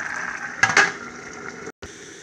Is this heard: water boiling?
yes